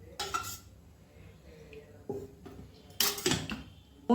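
Several metallic clanks and clinks as a griddle pan is handled and set down on a gas stove, scattered across a quiet background.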